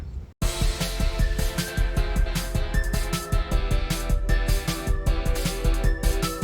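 An electronic instrumental plays with punchy drums, a low bass line and a sustained guitar-like tone, steady and loud after a brief silent start.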